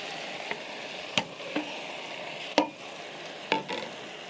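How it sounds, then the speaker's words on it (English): A spoon stirs chopped tomatoes frying in a pan for Kenyan black bean githeri, with a steady soft sizzle underneath and several distinct scraping strokes at irregular intervals, close and clear, no voices. "you're going to stir your tomatoes to make sure nothing is burning"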